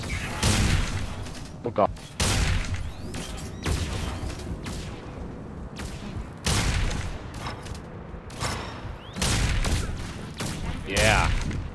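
Repeated explosions and gunfire boom in a Clan Zorah multiplayer video game match, loud dense blasts coming in rapid waves, with a player talking over them.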